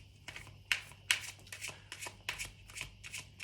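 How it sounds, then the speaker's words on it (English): Tarot cards are shuffled and drawn, giving a quick series of crisp riffling and flicking bursts at close range with short pauses between them. "I will pull another card for the Three of Wands"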